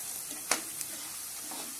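Roasted gram and peanuts sizzle in a pan as they fry, a soft, steady hiss with one sharp crackle and a lighter tick, faint and close, with no talking.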